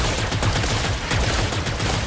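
Nemesis weapon in the fast shooter game Evil V Evil, firing as a rapid, steady automatic burst that stays loud and dense throughout, with no speech over it.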